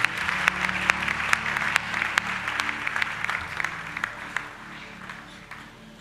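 Congregation at a church convention for couples and men clapping together, a dense, continuous round of applause with sharp individual claps standing out that slowly tapers off toward the end.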